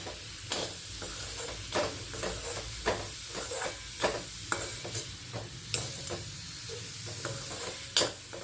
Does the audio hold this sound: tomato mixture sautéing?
yes